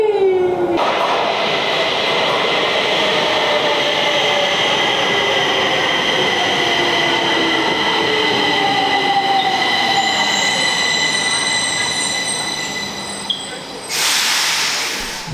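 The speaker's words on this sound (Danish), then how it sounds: "Og vi tager selvfølgelig metroen" A Stockholm metro train runs with a loud, steady rumble and hiss, shrill wheel squeals rising and falling throughout, and a sudden change in sound near the end.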